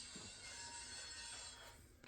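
Model trains run on layout track laid on cork, giving a continuous faint metallic whir and squeal, steady throughout the short stretch with no voices.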